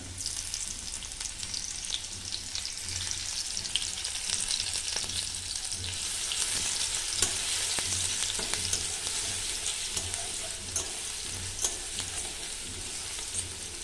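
Crushed garlic fries in a pan with a bright, steady sizzle, close and continuous, as a spoon occasionally knocks and stirs through it.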